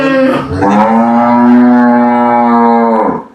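A cow, an Indian dairy cow on a dairy farm, lets out one long, loud, close moo that holds steady for about three seconds before trailing off.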